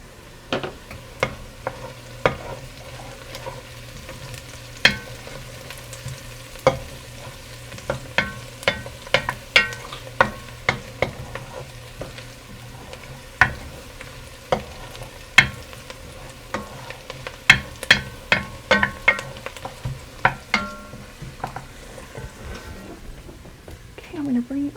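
Onions caramelizing in a pan give a low steady sizzle, broken by frequent sharp clicks and taps of a utensil stirring against the pan, with a voice talking over it.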